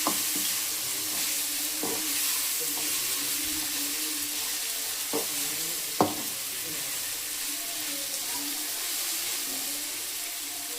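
Coriander powder stirred into tomato chutney in a hot pan: a constant low sizzle broken by a few sharp knocks of a spoon against the pan.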